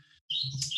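A phone alarm made of recorded bird chirps, with bright, close, loud tweeting calls that start abruptly after a brief pause and carry on with no talk.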